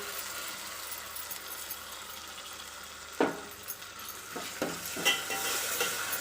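Thick tomato and cashew paste tips into a hot pan and is stirred, making a steady low sizzle. A few distinct scraping knocks of the spoon against the pan rise above it in the second half.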